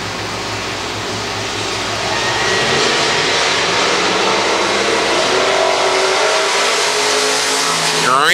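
Race cars circling a track under caution, a loud steady broadband engine roar that swells a little after a couple of seconds and holds, with no pauses.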